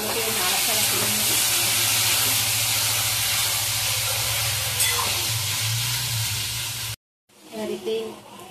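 Taro stolons (kochur loti) sizzle and hiss steadily in a hot frying pan while being stirred, a loud continuous crackle that cuts off abruptly near the end, followed by a brief clatter.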